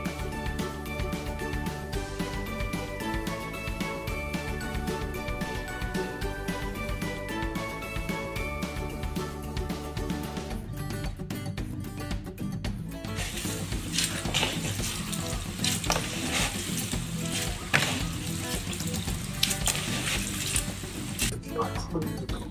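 Running tap water rinses a jackfruit in a kitchen sink for biko, a steady splashing flow throughout that grows brighter and fuller partway through, with faint background music underneath and no talking.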